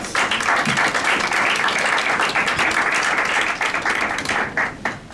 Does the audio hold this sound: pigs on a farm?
no